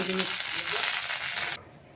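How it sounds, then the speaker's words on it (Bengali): Capsicum frying in hot oil with salt, a loud close hiss and crackle that holds steady, then cuts off abruptly near the end. "এখন আমি একটু তেলে ক্যাপসিকামটা দিয়ে দিচ্ছি স্বাদ লবণ দিয়ে"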